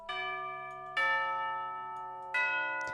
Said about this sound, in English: They're metal tubular bells.